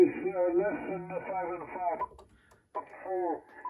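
A 28 MHz amateur-radio signal received on a Moxon antenna through an ICOM IC-7610 transceiver: a narrow, band-limited voice with a steady hiss, steady for two seconds, a short dropout, then more clipped speech.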